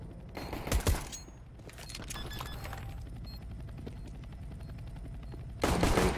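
Gunfire from Counter-Strike: Global Offensive on the Vertigo map: a loud rapid burst near the start, a quieter stretch of game ambience, then another sharp burst of shots at the end.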